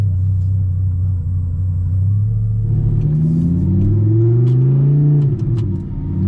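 A 2011 Audi R8 V10 engine rumbles low and then revs up, accelerating with rising pitch; loud and close, no talking.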